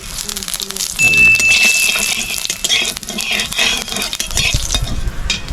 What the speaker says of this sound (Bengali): তেলের মধ্যে কিন্তু এখন তেজপাতা আর পাঁচ ফোড়ন দিয়ে দিয়েছে